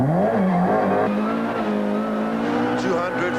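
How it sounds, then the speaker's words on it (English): A rally car slides on muddy roads with a loud, close engine wavering and revving as the tires fight for grip. A voice may be talking over it. "The muddy roads had the car sliding and stalling as they battled for traction."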